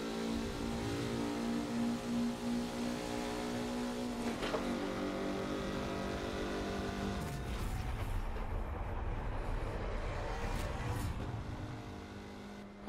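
Car engine in Forza Motorsport 7 revving and droning steadily, pitch climbing then dropping as gears change, fairly quiet with no voices over it.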